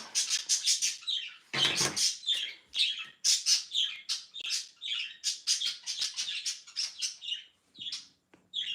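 Several pet birds chirp and squawk steadily and fairly close, with a dense run of overlapping tweets and a few harsher calls, and no talk.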